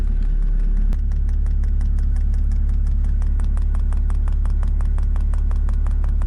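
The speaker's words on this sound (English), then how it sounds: "Fuel pump is working." A Chinese diesel heater fuel pump runs in a Volkswagen T4 campervan, ticking in an even rapid rhythm over a loud steady low hum, with one sharp knock near the start.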